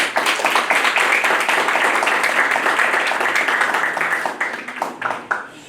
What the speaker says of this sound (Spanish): el doctor César Bazán Naveda, a quien recibimos con fuerte aplauso